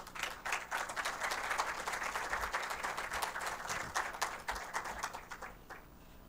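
A crowd at an electromobility innovation event in Antofagasta, Chile, gives strong, sustained applause, many hands clapping densely for several seconds before tapering off slightly, heard from within the room.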